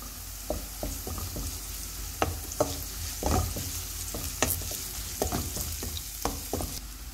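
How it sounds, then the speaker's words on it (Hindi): Ginger garlic paste frying in hot oil, a steady sizzle broken by repeated scraping stirs of a spoon against the pan, close and unaccompanied by talk. "अब हम अदरक और लहसुन का पेस्ट डाल देते हैं।"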